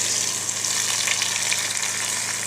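A blended paste of onion, garlic, tomato, green chili and ginger fries in a pan for a katla fish curry, giving a loud, steady, close sizzle throughout with no talking.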